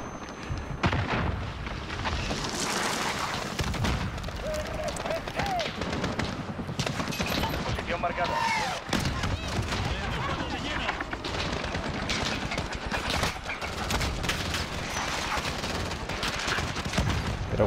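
Gunfire and explosions in Call of Duty Modern Warfare on PS4 Pro, with rapid bursts of shots, booms and sharp cracks throughout a busy battle, and a player's voice talking intermittently over the noise.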